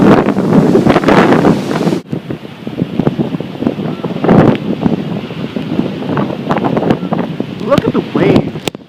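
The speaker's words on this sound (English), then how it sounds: "I can feel the wind pushing me away." Strong wind from Hurricane Sandy buffets the microphone with heavy roaring gusts alongside crashing waves, loud and close, with a brief lull before the gusts return and a voice speaking at times over it.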